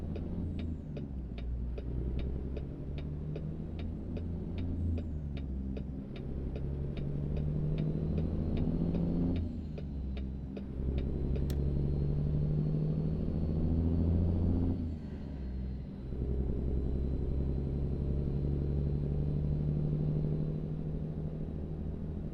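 Stock truck with a modded engine in American Truck Simulator, a steady low diesel rumble that rises and dips with gear changes, accompanied by a rapid, regular ticking like a turn signal.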